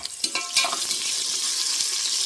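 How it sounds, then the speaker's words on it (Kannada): Onions hissing as they fry in hot ghee for a country chicken sukka, a steady close sizzle with a few stirring clatters near the start, alone without voices. "ಒಂದು ಚಮಚ ತುಪ್ಪವನ್ನು ಹಾಕಿ ಅದು ಬಿಸಿ ಆದಮೇಲೆ ಈರುಳ್ಳಿಯನ್ನು ಫ್ರೈ ಮಾಡಲಿಕ್ಕೆ ಹಾಕ್ತಾ ಇದ್ದೇನೆ"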